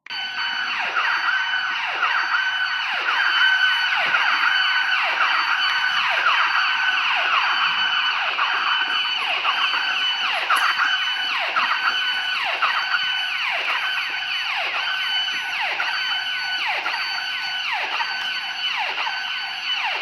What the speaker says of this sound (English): The alarm in this library has been going off now for almost an hour